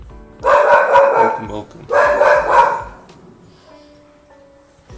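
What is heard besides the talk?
dog barking at the postman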